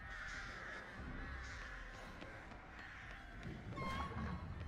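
Crows cawing outdoors, repeated harsh caws in a loose rhythm over a noisy background, moderately near and fairly faint.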